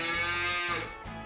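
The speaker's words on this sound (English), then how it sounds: "I'm gonna leave you here with these cows." Cattle mooing in the farming game Farming Simulator 25: a loud, drawn-out bovine call with rich harmonics, close and sustained for over a second with no talk over it.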